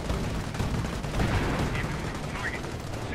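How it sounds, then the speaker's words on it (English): Loud, dense gunfire mixed with rumbling artillery blasts fills the WWII strategy game Company of Heroes, constant and unbroken throughout. "Where's my artillery? actually have some artillery waiting for them"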